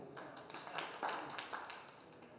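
An audience applauds for Pasham Yadagiri at a World No Tobacco Day event, a short, fairly faint patter of scattered hand claps over a couple of seconds, thin rather than thunderous.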